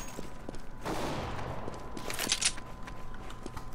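Gunshots in the game CS:GO: a burst of gunfire rises out of steady background noise, followed by a few sharper cracks, moderately loud and with no talking.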